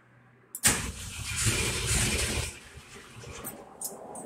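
A Jeep engine cranks with a sharp burst, catches and roars loudly for a couple of seconds, then settles into a steady idle.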